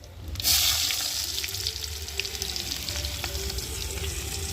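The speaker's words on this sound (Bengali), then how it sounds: "পেঁয়াজটা একটু ভালো করে ভেজে নেব" Chopped onions sizzle steadily in hot oil in a wok, seasoned earlier with cumin, as a close, continuous crackling fry with light stirring and no talk.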